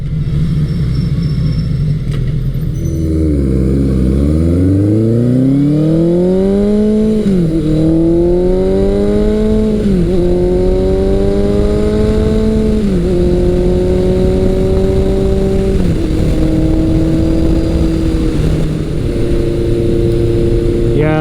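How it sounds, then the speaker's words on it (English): Close and loud, a Honda CB900C motorcycle engine revs repeatedly through a Delkevic 4-into-1 exhaust, each blip rising in pitch then dropping back to a steady, throaty idle between rises. "I've got the Delcovic 4-to-1 pipe on this, and it sounds so nice"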